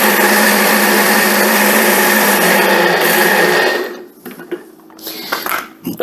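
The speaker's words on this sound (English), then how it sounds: "I'm going to use my chopper to chop it up" An electric chopper mincing garlic runs with a loud, steady motor whir for about four seconds, then cuts out, leaving faint clicks and handling noises.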